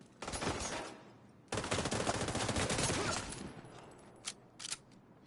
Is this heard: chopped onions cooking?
no